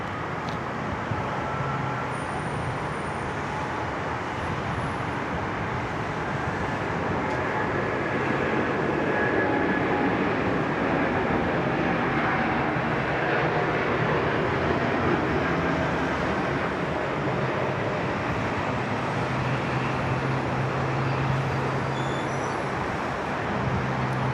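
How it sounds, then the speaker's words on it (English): A Qantas Airbus A330 landing at Sydney Airport on a sunny morning gives a steady, loud broadband jet roar that holds for the whole stretch, with no voices over it. "Looks like it's an A330 this morning."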